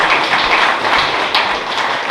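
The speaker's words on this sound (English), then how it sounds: "Y'all can clap for that" An audience at a faith-based recovery gathering claps for a speaker's sobriety milestone, a dense, even wash of applause lasting a couple of seconds with no voices over it.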